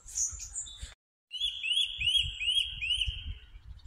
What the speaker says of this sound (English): There's definitely a bird nesting up there.